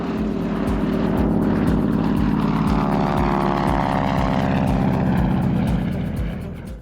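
A small propeller airplane drones steadily on a first flight, with a loud, continuous engine roar and rhythmic propeller pulsing that swells slightly and fades at the end, heard close from inside or near the aircraft with no talk.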